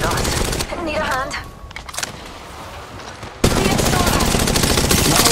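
Automatic gunfire in the mobile battle royale game Apex Legends Mobile, loud rapid bursts of shots that break off briefly and then return in a sustained hail, with voices mixed in.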